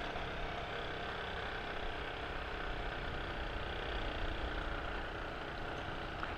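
A motorcycle labors up a steep shortcut road between Semin and Ponjong, its engine a steady, strained drone mixed with wind rush, continuous and close for several seconds.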